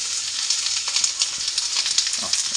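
Onions sizzle steadily in melted ghee in a pan, a loud, close crackle with light stirring scrapes and no voices.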